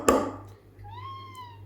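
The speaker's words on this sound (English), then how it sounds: "That's just my cat." A cat gives a single clear, drawn-out meow near an espresso machine, following a brief sharp knock, with no speech.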